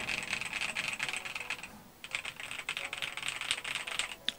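Steady, brisk typing on an Aula Wind F98 mechanical keyboard, close and clear, with a brief pause in the middle before the clacking resumes.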